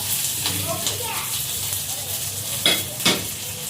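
Curry leaves and a dried red chili sizzle in hot oil already holding mustard seeds, cumin and urad dal, tempering for a bitter gourd kuzhambu. A steady, close crackle with a few sharp pops runs under a person talking.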